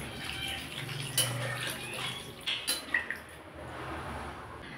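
A little more water is tipped into a simmering pan of koi fish and potato curry, a close splashing pour that ends in a few wet drips and squishy plops.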